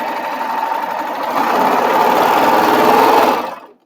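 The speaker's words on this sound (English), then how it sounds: "I'm going to be sewing with a 3-thread overlock." A Baby Lock Triumph serger stitching a 3-thread overlock with decorative threads in the loopers, a steady close mechanical whir that picks up speed midway and then stops abruptly near the end.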